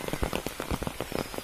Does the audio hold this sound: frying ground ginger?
no